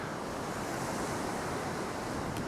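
Waves break against shoreline rocks and rock armour as the tide comes in, a continuous roaring wash of surf with wind noise buffeting the microphone.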